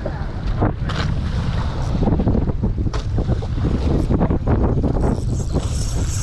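Strong wind sweeps over open water during fishing beside floating fish cages, a loud, gusty roar buffeting the microphone in uneven surges with faint splashes and boat sounds beneath.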